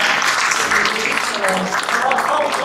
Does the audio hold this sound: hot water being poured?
no